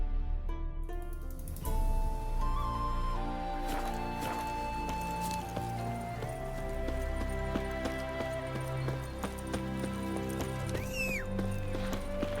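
Horse hooves clip-clopping at a steady run in The Witcher 3, a rhythmic series of close thuds running the whole time beneath game music, with a brief whinny-like call near the end.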